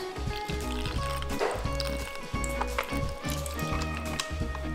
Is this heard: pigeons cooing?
no